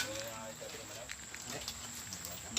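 Pig grunts come faintly through a noisy rural outdoor scene while people talk in the background.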